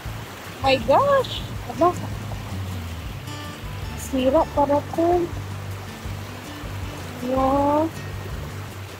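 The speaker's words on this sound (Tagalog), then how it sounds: "Malakas pa rin yung agos ng tubig." A strong current of flowing water rushes continuously in the background while people talk and exclaim excitedly over it in short bursts.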